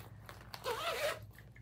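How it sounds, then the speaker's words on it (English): A zipper on the pocket of a fabric project bag being pulled open in one quick, close, raspy zip lasting about half a second, with soft handling noises before and after. "And so there's a pocket in there, and then there's a zipper pocket here."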